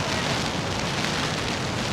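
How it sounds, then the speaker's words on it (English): Heavy rainy-season rain in Da Nang, Vietnam pours steadily in a dense, hissing roar, with gusty wind driving it sideways. "now it's a mean rain from the side."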